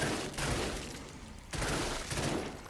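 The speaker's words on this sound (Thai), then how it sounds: "เสียงแบบรีโหลดแล้วก็ เสียงการยิง" Modded weapon gunfire in the video game Killing Floor 2: two heavy, sharp shot bursts about a second and a half apart, each ringing out and decaying into a rough noisy tail. There is no talking.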